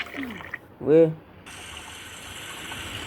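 Juice is squeezed in Toca Boca Jr, with a brief liquid gush and squelch heard alone, followed by a steady hiss of pouring or trickling.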